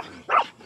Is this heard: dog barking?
yes